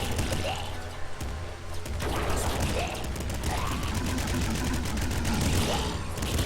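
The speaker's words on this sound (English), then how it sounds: "I'm kind of shooting off in the distance to see what I can..." Video game gunfire, shooting in the distance with bullets that light up the dark: dense, continuous bursts of rapid shots fill the whole stretch, loud and rattling.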